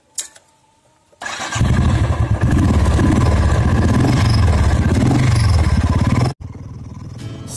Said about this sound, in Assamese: বাইকখন ষ্টাৰ্ট কৰি লওঁ